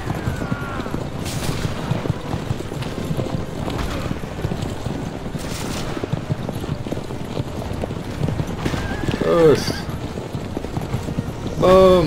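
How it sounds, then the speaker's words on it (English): Rhythmic hoofbeats of a galloping horse thud steadily under wind noise, with a couple of short whinnies near the end, in Assassin's Creed: Revelations. "Horse."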